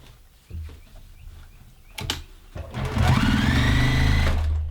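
A Juki TL-2010Q sewing machine stitches through stacked layers of denim, starting with a few clicks and handwheel knocks before the motor revs up into a loud, steady whirring run that holds for over a second.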